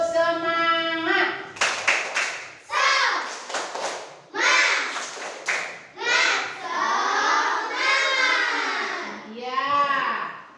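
Schoolchildren in a classroom performing a rhythmic cheer clap, bursts of chanted voices interleaved with clusters of claps and thumps in a patterned rhythm, led by an adult's voice at the start.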